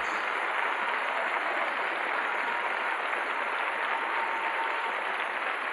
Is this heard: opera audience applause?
yes